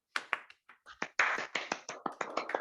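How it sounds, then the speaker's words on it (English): A few pairs of hands clap in a round of applause: sharp, close, irregular claps that quicken into a steady patter, with no voices over them. "Round of applause."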